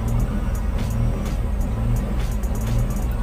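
Car engine idling with the throttle untouched, its revs rising and falling unsteadily from a suspected faulty ISC actuator; a steady low rumble fills the whole stretch with slight swells in level, no one talking.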